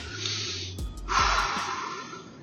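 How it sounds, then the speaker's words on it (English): Slow, deep breaths drawn in and let out near the mic, used as tactical breathing for stress control; a sharp inhale is followed by a long, steady exhale, with no talking. "You have to do your tactical breathing"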